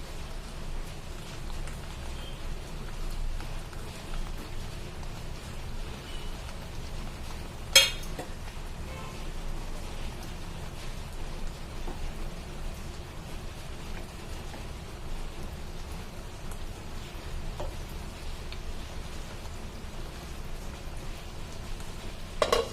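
Steady rain falls outdoors as a faint, even hiss of drops, with one sharp metallic clink and a few lighter taps standing out against the constant wash.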